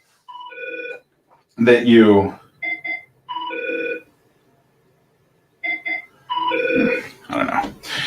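A desk phone in an office rings in repeated short electronic bursts, three separate rings spread across the span, with someone talking over and between them.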